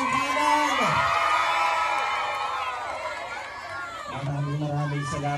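A campaign rally crowd at a 2025 mayoral caucus in the Philippines, shouting and cheering loudly in a sustained roar, with a speaker's voice over a microphone running on top.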